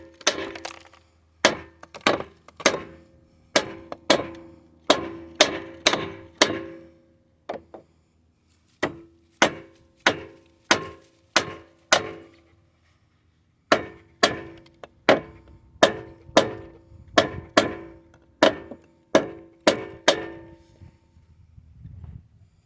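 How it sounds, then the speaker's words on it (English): Sharp, hard knocks from a plastic hammer strike a Briggs & Stratton lawn mower engine in quick bursts of several blows, with short pauses between groups, close and loud. "got a plastic hammer. Let's see if we can't beat it off"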